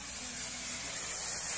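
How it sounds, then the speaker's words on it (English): Pantene hair spray misted onto hair, a soft steady aerosol hiss lasting about a second and a half, close and quiet, with no voices. "I'm going to put a little bit of Pantene spray on my hair."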